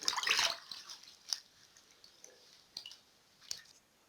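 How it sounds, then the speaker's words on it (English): Woody root skin being washed by hand in water, with a loud burst of splashing and sloshing at the start followed by a few brief, sparse splashes and drips close by. "So you wash it properly. Wash the skin."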